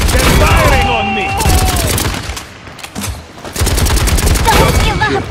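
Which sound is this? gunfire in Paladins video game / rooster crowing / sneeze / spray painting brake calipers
gunfire in Paladins video game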